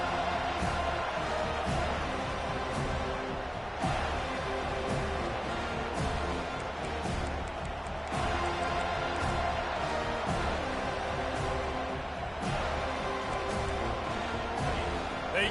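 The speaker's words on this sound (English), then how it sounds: "They challenge this crowd to bring the energy, and I'd say they're doing that" A large stadium crowd at a Florida State football game roars in a continuous wash of cheering, with a commentator talking over it.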